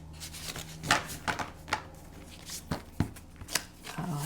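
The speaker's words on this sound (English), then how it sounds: "we're going to shuffle these cards" Oversized tarot-style cards shuffled by hand in a quiet room, producing a series of soft, close papery riffles and slaps at irregular intervals, with faint low background hum.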